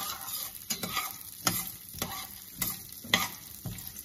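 Chana dal and urad dal dry roasting in a pan, with regular spatula scrapes and stirring strokes about every half second over a soft, dry rustling crackle, close and alone.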